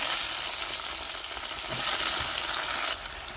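Ridge gourd pieces sautéing in a pan of oil, a dense close sizzle with a brief stirring surge midway that drops slightly near the end.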